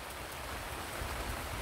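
Steady outdoor rain falls continuously, a dense close hiss of drops hitting surfaces with no voices over it.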